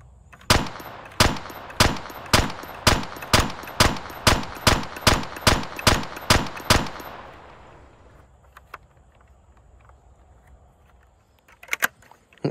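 A LEGO P90 model gun firing: a brisk, evenly spaced run of about fourteen sharp, loud plastic clacks, then quiet with a few faint clicks toward the end.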